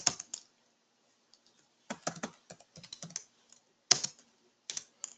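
Java code typed on a computer keyboard: short bursts of crisp key clicks separated by pauses, close and fairly quiet, with no talking.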